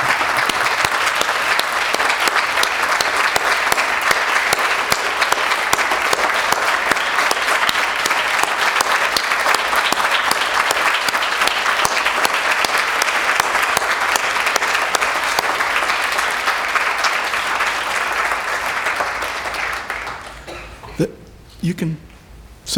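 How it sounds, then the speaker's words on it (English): A large audience at a veterans salute ceremony applauds servicemembers who have risen to be recognized, steady dense clapping sustained for about twenty seconds before fading out near the end. "There's a reason why we applaud you, celebrate you, indeed salute you today."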